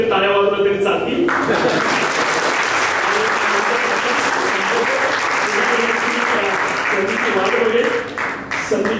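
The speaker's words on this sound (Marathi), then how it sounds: "टाळ्या वाजवल्या तरी चालतील" Sustained applause from an audience at a Rotary club event in Pune, loud, close and steady for several seconds before it tapers off.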